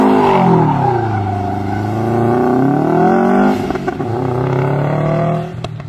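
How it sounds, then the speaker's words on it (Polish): A car engine, one of a range that includes V8, V12 and boxer engines, turns over and catches, its loud revving tone rising and falling steadily before dropping off with a few clatters near the end. "Oczywiście, że rozruch silnika."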